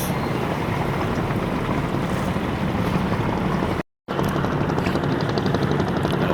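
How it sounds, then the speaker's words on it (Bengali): A large passenger launch pulls away from Sadarghat on the Buriganga river in Old Dhaka, heard as a loud, steady engine and water rumble that cuts out briefly just before the clip's end. "ওই যে দেখুন আমার পিছনে কিন্তু একটি লঞ্চ এইমাত্র ঢাকা সদরঘাট থেকে ছেড়ে গেল।"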